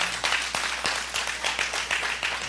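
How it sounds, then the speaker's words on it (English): A church congregation claps during a sermon. The applause is loud and close, with sharp individual hand claps standing out over a crowded, continuous patter. "Give him a hand clap."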